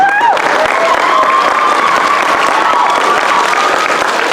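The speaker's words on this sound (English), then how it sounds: "can I have louder applause for Alex" Sustained applause from a ballroom crowd at a masquerade ball gala fundraiser, steady and dense throughout, with a bit of cheering and murmuring mixed in.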